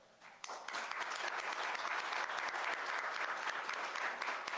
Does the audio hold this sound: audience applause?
yes